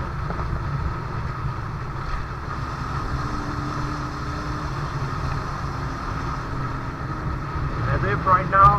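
A Yamaha R15 V3 motorcycle cruises steadily in sixth gear at about 66, its low engine hum mixed with wind rush, with someone talking over it throughout.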